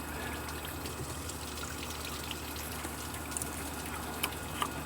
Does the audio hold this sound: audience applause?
no